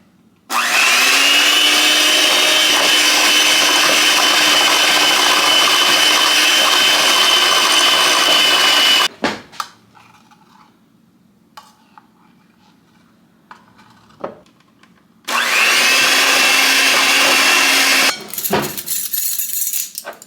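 A blender mixes marzipan ingredients with a loud, steady whir that runs for several seconds. It stops, leaving a quiet pause with a few clicks, then starts again for another few seconds.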